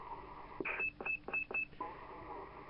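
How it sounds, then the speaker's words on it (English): A President Lincoln II CB radio gives a roger beep: a quick run of short, clipped electronic tone pulses, close and clear over faint hiss, with no talking. "Roger beep."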